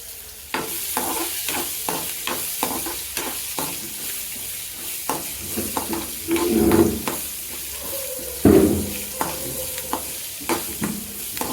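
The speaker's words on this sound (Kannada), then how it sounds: "ಈಗ ಬಂದು ಈರುಳ್ಳಿ ಹಾಕ್ಕೊಳತ್ತಂತ ಫ್ರೈ ಮಾಡ್ಕೊಳಕ್ಕೆ." Onions frying in a pan for a home-style capsicum curry, with a steady sizzle under repeated stirring scrapes and clinks, and a couple of louder bursts partway through; no one speaks.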